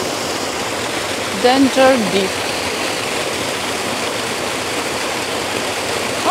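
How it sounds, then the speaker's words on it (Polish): A small waterfall and mountain stream in the Lake District, a steady broadband rush of flowing water throughout, with a brief voice rising over it near the start. "Teraz patrzcie na ten wodospadzik. O, tu jest strumyczek."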